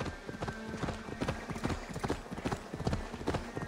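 A horse gallops in Assassin's Creed Valhalla, dense rapid hoofbeats pounding in a steady driving rhythm, close and loud throughout.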